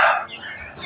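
A rooster in a village setting gives a short, loud crowing burst that cuts off quickly and is heard up close.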